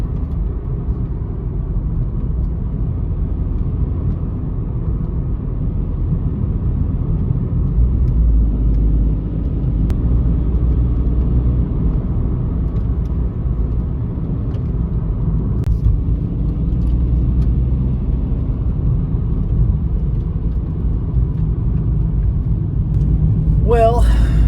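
A car drives along a road in Turkey, a steady low engine and tyre rumble heard from inside the cabin, constant throughout with little change.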